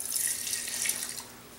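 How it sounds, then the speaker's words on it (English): Water runs from a tap into a coffee pot, a steady bright hiss of filling that continues close-up and then eases slightly toward the end. "fill the rest of this up with water"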